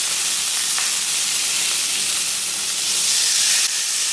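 Thin slices of carne asada steak sizzle loudly in a hot pan. The frying hiss is steady and close, with no voices over it.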